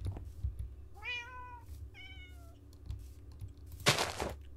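A black cat in the Minecraft video game meows twice, clear and close in quick succession, followed by a brief burst of noise; a low background hum runs throughout.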